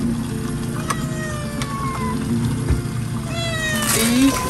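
A cat meows repeatedly, close and clear, several rising mewing calls spread across the clip with a louder one near the end, over a low steady hum from a camper van setting.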